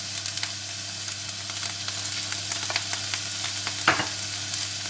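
Finely chopped onions and celery sizzle in a frying pan over meat drippings, a steady close crackle and hiss with occasional stirring scrapes and one louder clatter near the end.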